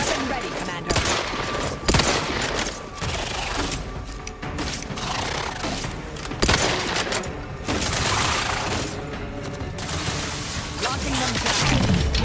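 Stun weapon fire from The Outer Worlds 2 in a sustained stream of rapid crackling bursts and booms, loud and dense throughout, with a game voice speaking over the barrage.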